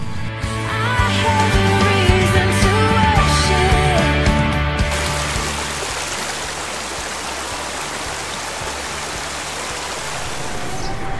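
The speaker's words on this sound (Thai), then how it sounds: "ย่างลงไปบนน้ำตกนี่ก็ถือว่าเป็นน้ำตกที่บ่ใหญ่ปานใด" A small, modest waterfall and stream flow with a steady, close rush of water that grows broader and more even halfway through, with some tonal sounds mixed in at the start.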